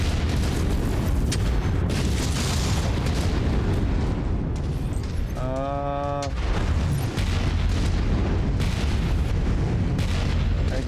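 In the MechWarrior 5 video game's Solaris Showdown arena, autocannon fire and explosions pound continuously in a dense, loud barrage, with a brief rising electronic tone cutting through near the middle.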